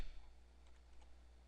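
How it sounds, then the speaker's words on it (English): Quick, light keystrokes on a computer keyboard type out a web address, faint clicks over a low steady hum, closely spaced in a short burst. "and then we'll type in"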